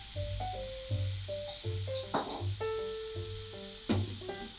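Shrimp and butter sizzle steadily in a pan over medium heat, a close continuous frying hiss with occasional louder crackles and tonal kitchen sounds over it.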